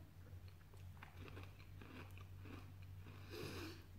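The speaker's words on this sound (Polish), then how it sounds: "powłoka jest bardzo chrupiąca, to jest bardzo dobry cukierek" Crunchy chocolate-coated Hungarian candy being bitten and chewed close to the mic, with repeated crisp crunches over a steady low hum and no talking.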